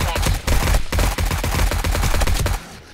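Rapid automatic gunfire rattles in close, fast, even bursts from 7 Days to Die with the Darkness Falls mod, the sharp shots running almost nonstop with a brief pause partway through before stopping.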